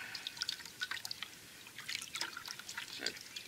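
Water drips and trickles from a raccoon tail being rinsed in a salt bath, a quiet series of irregular close patters and splashes with no talking.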